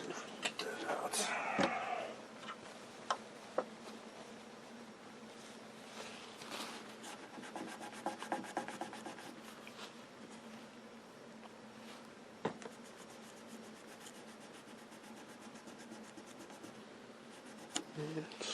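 Cloth or pad rubs and scrubs against an Admiral 19A11 bakelite radio cabinet, soft rhythmic friction strokes with a few sharp taps, close and fairly quiet.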